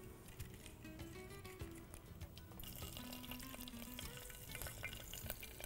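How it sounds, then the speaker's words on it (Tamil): Bay leaves, cinnamon sticks and cloves fry in hot oil in a pan, giving a steady close crackling sizzle that grows busier partway through, with faint clinks of stirring. "என்ன சூடாகிடுச்சு, இதில் 2 பிரிஞ்சி இலை, 2 பட்டை, 2 லவங்கம்"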